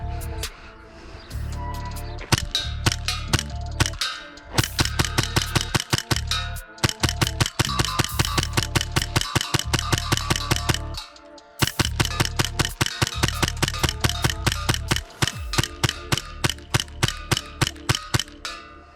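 A customized Hi-Capa airsoft pistol firing in rapid bursts, sharp mechanical clacks in fast even strings separated by brief pauses, loud and close with no voices.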